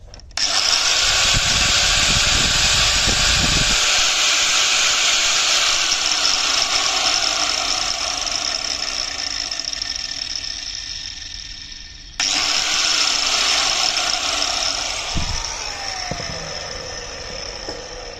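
A 4-inch Bosch or Hitachi angle grinder runs loudly under repair testing, spinning up with a steady high whine that drops as it cuts off near twelve seconds, then restarts and holds at full speed.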